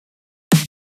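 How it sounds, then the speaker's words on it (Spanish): One sharp snare drum hit, crisp and close, with a short noisy decay and silence around it. "Aquí, por ejemplo, este sonido es un snare."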